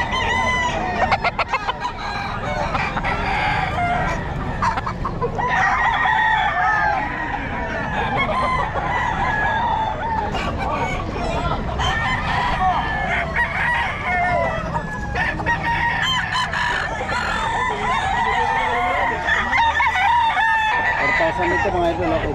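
Roosters crow over and over and chickens cluck in a dense, loud, continuous mix of overlapping calls, with people talking faintly in the background.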